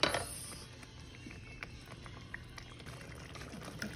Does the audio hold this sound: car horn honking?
no